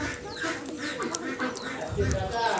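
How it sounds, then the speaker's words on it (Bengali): Ducks quack at a duck farm also housing Chinese ducks and farm chickens, a dense overlapping flock chorus heard close with a person talking over it. "অনেক হাঁস রয়েছে, চীনা হাঁস আছে, ফার্মি মুরগি আছে, আর এই হাঁসগুলোও আছে।"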